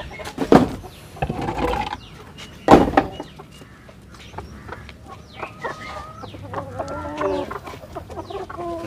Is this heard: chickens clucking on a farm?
yes